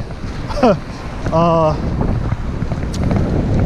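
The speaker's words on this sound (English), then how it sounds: "I don't know if the mic is picking up a lot of this wind" Wind in Seattle buffets the microphone during a rental-bike ride in a constant low roar, with a brief voice and a short tonal sound rising briefly above it.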